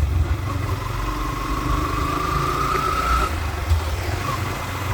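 A motorcycle engine runs steadily while being ridden through a quiet, peaceful setting, a continuous close drone with a faint whine rising and fading and no talk.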